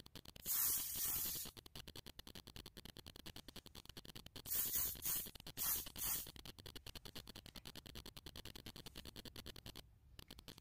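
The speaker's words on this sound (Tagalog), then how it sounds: "So, spray mo lang siya sa face mo." A Tone-Up 7 Vitamins complex spray is misted onto a face in three short, soft hissing bursts. A faint, rapid ticking runs under them throughout.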